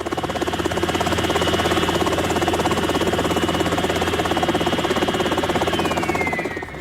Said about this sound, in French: Ce modèle unique d'hélicoptère dernier cri est tout à fait exceptionnel